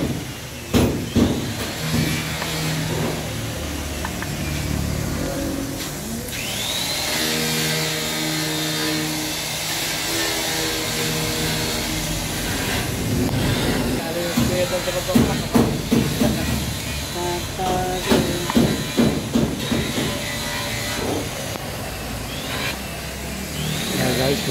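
An Isuzu 4BC1 diesel engine in a jeep idles with a 24-volt charging system, a steady mechanical hum with hissing, while someone talks over it and sharp metallic clicks and knocks from work on the engine come and go.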